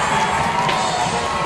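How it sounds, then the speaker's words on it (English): Crowd cheering and shouting at a high school football game between St. John Bosco and Kahuku, a dense, steady roar of many voices with scattered whoops. "And a very good crowd."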